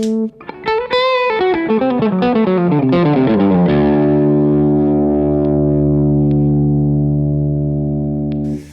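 An electric guitar through an overdrive pedal set for more clipping plays a quick run of clipped, fuzzy notes, then rings out on a thick distorted chord that sustains and fades.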